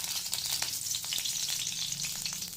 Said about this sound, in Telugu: ప్యాన్ బాగా హీట్ అయిన తర్వాత రైస్కి సరిపడా ఆయిల్ని అయితే యాడ్ చేస్తున్నాను.